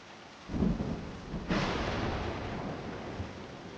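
Thunder rolls through an anime storm scene, a sharp crack arriving with lightning and then a long heavy rumble over steady rain noise, loud and close with no voices.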